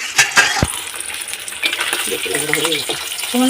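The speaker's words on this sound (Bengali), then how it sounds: "মাছগুলো বেশ আমি কড়া করে ভেজে নিয়েছি" Pieces of rupchanda (pomfret) fish fry in hot oil, giving a busy crackling sizzle broken by clinks of a utensil against the pan, close and fairly loud, with faint voice-like sounds in the background.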